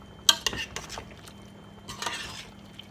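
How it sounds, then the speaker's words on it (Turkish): Metal utensil scraping and clinking against a cooking pot as chicken and potato food is stirred, a sharp clank followed by a few softer scrapes, then a second burst of scraping, close and fairly quiet. "Şimdi şöyle bir karıştırıyoruz yemeğimizi"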